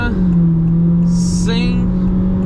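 Honda City Hatch Touring, a naturally aspirated car, accelerating at full throttle from about 30 km/h, with a loud, sustained engine drone under a voice speaking.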